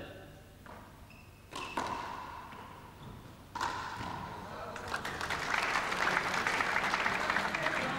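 At a 1988 handball match in Dublin, two sharp ball thuds ring out in a hall, then applause swells and holds steady toward the end, with a commentator's voice faintly underneath.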